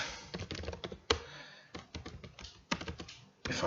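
Irregular bursts of keystrokes on a computer keyboard, typed in quick clusters with short pauses between, close and fairly clear with no talking.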